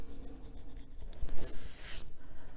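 Colored pencil burnishing on paper, a soft close scratchy rubbing that swells in brief strokes, quiet and without talking.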